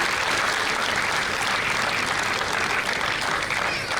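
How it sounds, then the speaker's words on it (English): Steady, dense applause from a large audience, loud and continuous throughout with no pauses. "So with a big round of applause"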